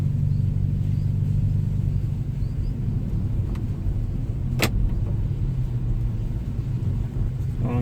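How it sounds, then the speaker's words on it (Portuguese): Nissan car with an automatic transmission rolling in drive and gathering speed, a low steady engine and road rumble from inside the cabin, with one sharp click partway through. "em drive a gente percebe que o carro fica solto, vai ganhando velocidade"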